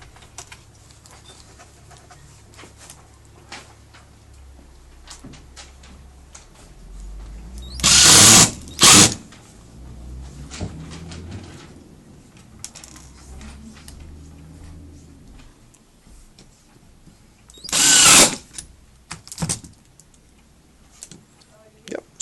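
A power drill drives screws into a vanity cabinet in two short whirring bursts near the start and one later burst, close and loud, separated by quiet handling and soft movement noises.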